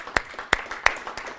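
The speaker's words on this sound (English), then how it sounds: "let's give Brent Capello a round of applause." A few sparse, spaced claps from an audience welcoming a speaker on customer relationship management, three sharp strikes standing out over a soft background, with no voices.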